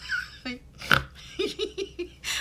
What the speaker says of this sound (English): I have a dog named Lacey, and sometimes she sits off camera